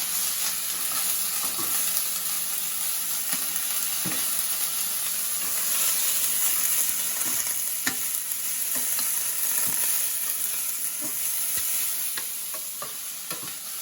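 Food sizzling steadily in a hot pan with black pepper added, a spoon scraping and stirring it through in irregular strokes; continuous frying hiss throughout, close and fairly loud, no voices.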